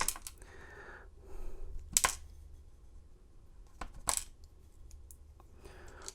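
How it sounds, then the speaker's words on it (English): Small metal key pins drop out of a lock cylinder during a Lishi pick demonstration, giving a few sharp, bright clinks spaced apart over quiet handling noise, close and clear with no talking. "let me drop the key pins real quick here"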